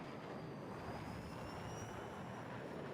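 A fighter jet flies in Battlefield 6, its engine a steady, continuous roar with a thin high whine running through it, heard alone without speech.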